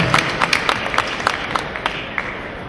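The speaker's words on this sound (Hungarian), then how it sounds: "azt hiszem, hogy tapsot megér, ha valaki 5 olimpiát produkált meg" A boat show audience gives light applause for a five-time Olympian, a thin patter of distinct, fairly close claps from a small crowd.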